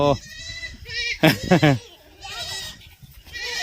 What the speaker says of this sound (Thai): นี่เป็นเป็นแพะ